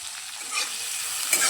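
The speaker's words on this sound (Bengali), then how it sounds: "পেঁয়াজটা তেলের মধ্যে একটু নেড়ে চেড়ে কয়েক সেকেন্ডের মতো একটু নাড়াচাড়া করলেই হয়ে যাবে।" Chopped onion and green chillies sizzle and crackle in hot oil while being stirred in a pan, a steady close frying hiss with a brief scrape near the end.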